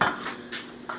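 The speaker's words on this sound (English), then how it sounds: "Mix it all up." Spoon scraping and clinking against a pan while a Spanish rice casserole mixture with enchilada sauce is stirred, a few short metallic scrapes close by with no talking.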